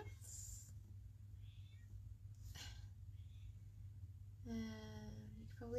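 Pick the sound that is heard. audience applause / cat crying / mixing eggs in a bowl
cat crying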